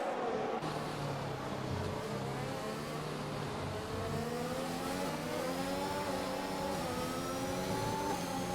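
Several racing car engines whine and rev together in a racing video game, Great Britain round, their pitch climbing steadily as they accelerate, loud and close, with no talking.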